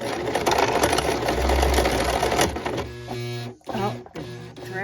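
A sewing machine stitches paper ephemera onto a bee-themed journal, a loud rapid mechanical whir for about three seconds, then it stops and restarts in short uneven bursts.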